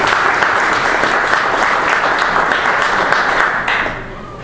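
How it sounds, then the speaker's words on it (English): Loud, close audience applause breaks out after a motivational speech in a record attempt for the most speeches in 24 hours, dense steady clapping from many hands that begins to thin out toward the end. "So I want to give yourselves a round of applause for helping me and being that turning point"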